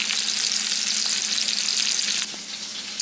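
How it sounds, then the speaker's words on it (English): Chicken pieces fry in a pan for a keto guacamole chicken melt, giving a steady, loud, dense sizzle that drops slightly in level near the end, with no talking. "And while the chicken is frying"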